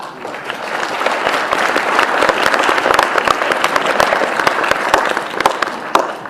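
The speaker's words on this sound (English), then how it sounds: "You need a round of applause." A crowd at a mission event claps in warm, dense, sustained applause, steady and fairly loud throughout, with no speech on top.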